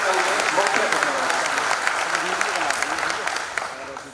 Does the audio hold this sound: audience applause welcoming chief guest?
yes